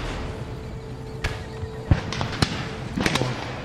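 Cannons fire during a battle in the strategy game Empire: Total War, a few sharp separate booms spaced over a quiet ambient background with a faint hum.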